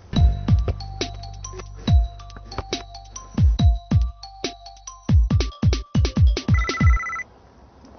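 A Sonim XP1 phone ringing loudly with a repeated ringtone pattern of sharp, bright tones in bursts, pausing and resuming several times before stopping.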